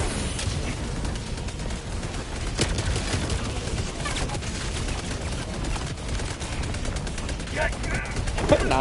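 Sentry gun firing in the game Helldivers 2, sustained rapid automatic gunfire that stays loud and dense throughout, with a voice briefly speaking over it.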